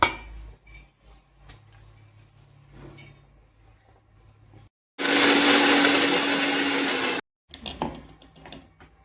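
A mixer grinder roars loudly for about two seconds, grinding spices without water, cut off abruptly, between quieter clinks and handling noises.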